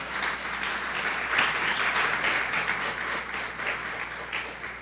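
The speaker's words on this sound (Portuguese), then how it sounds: "Você pode dar uma salva de palmas ao Senhor?" A church congregation at Igreja de Nova Vida do Catete breaks into dense, sustained applause, many hands clapping together at full volume for several seconds with no speech over it.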